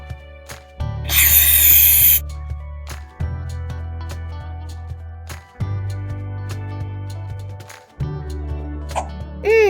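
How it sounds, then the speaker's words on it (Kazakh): A sharp burst of hissing helium gas from a nozzle inflating balloons, followed by a low droning hum that cuts in and out several times, with a faint rubbery squeak at the end. "Шарлардың ішіне алдымен желім жағып, сосын гелий газымен үрлейміз."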